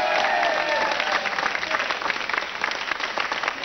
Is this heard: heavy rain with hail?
no